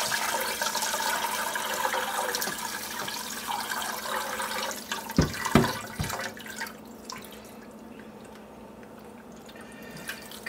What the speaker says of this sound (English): drain the broth into the pot